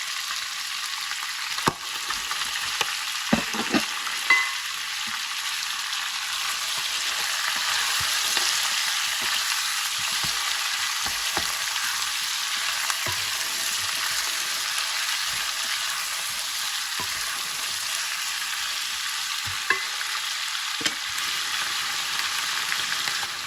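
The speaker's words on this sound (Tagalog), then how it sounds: "Lagyan natin yung bawang at saka sibuyas." Garlic and onion sizzle steadily in a hot pan for paksiw na baboy, a continuous bright crackle with occasional stirring clinks and scrapes, no voices.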